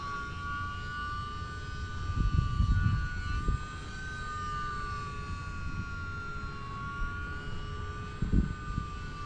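A rebuilt UMX Pitts model airplane flies on its first flight after a crash, its small electric motor a steady high-pitched whine that rises and falls in pitch, with bursts of wind rumble.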